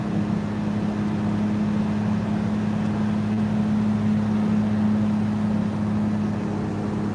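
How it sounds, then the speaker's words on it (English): A 1997 Dodge Ram dually pickup with a 12-valve Cummins diesel holds a steady, droning engine hum throughout, loud and unchanging, with no one speaking. "97 Dodge Ram Dually Cummins, 12-valve Cummins to be exact."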